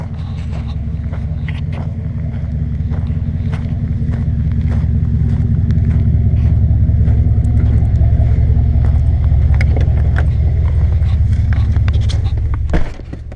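A pickup truck driving, heard from inside the cab as a steady, loud low engine rumble with road and wind noise, continuous throughout before a brief knock near the end.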